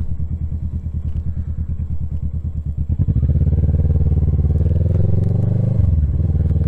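A vehicle engine idles with a rapid, even chug, then revs up hard and holds a loud, strained drone for several seconds without changing gear before easing off near the end.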